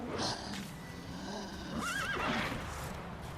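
A horse in the video game The Witcher 3 whinnies loudly in the middle, a rising and falling neigh over faint background noise and soft hoof sounds.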